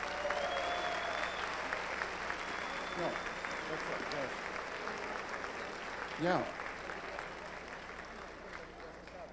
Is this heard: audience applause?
yes